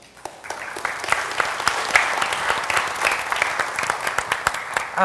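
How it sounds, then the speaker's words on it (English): An audience at a talk on educating innovators gives a round of applause: sustained, crowded clapping of moderate loudness that swells again at the close. "we should again thank Mr. Chun with a round of applause."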